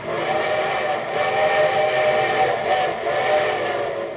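A steam train whistle, played as a radio sound effect, holds one long, loud, steady chord of several blended tones for the whole stretch with no talk.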